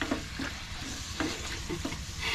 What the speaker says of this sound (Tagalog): I-mix natin tong ating gizzard